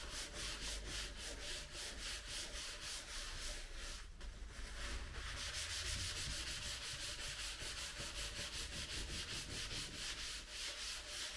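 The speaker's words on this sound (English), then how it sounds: "I continue wiping, until the alcohol has dissipated." A cloth rubs back and forth over a PC case surface wet with alcohol, a steady rhythmic scrubbing heard close and continuous, with a short pause midway.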